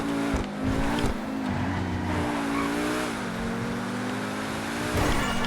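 Pegassi Zorrusso supercar from GTA Online, its engine note rising and shifting in pitch as it accelerates and changes gear, loud and continuous throughout.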